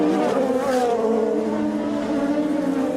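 Sebastian Bourdais's IndyCar race car driving to the finish at a street race in Detroit, a loud, sustained engine whine at high revs heard close and continuous.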